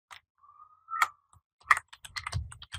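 Computer keyboard keys clicking as a search is typed, a few scattered close taps followed by a quicker run of keystrokes, quiet with no talking.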